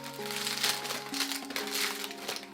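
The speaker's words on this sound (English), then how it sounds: "the builds themselves are additionally packed in a small plastic bag like this." Close crinkling of a small plastic bag holding LEGO advent calendar pieces, a short burst of crisp rustling handled steadily for a couple of seconds.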